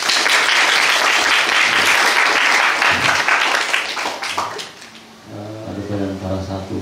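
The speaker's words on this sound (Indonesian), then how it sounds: "Tepuk tangan dulu." High school students applaud a visiting police officer at SMAN 1 Paringin, loud dense clapping from a large group that tapers off, with a voice starting to talk over the end.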